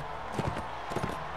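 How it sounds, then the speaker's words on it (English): Horse hooves in Mount & Blade Warband, two short clusters of clip-clop hoofbeats over a steady game background, moderately close. "Come on, horse. Quick getaway."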